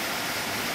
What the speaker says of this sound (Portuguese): Aí a água sai ali e aí depois você pode espremer o pano